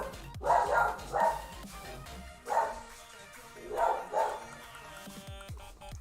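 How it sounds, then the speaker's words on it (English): Dogs bark in loud bursts: a doubled bark, a single one, a louder bark, then another doubled pair, with short gaps between and no other sound in the gaps. "Dogs losing their minds as usual."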